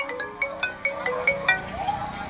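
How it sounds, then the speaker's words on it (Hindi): A phone ringtone in a Hindi audio drama, a repeating melodic chime with evenly spaced bright notes, fairly loud and steady for the whole stretch with no talk over it. "वैसे ही कार्तिक का फोन बजने लगा।"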